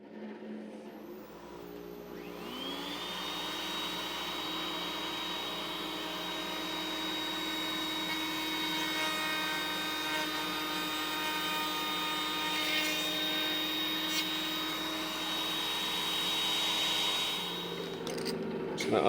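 A router on a router table spins up and runs a long, steady test cut through a workpiece on a Woodpeckers joinery sled, its high whine loud and continuous before spinning down at the end.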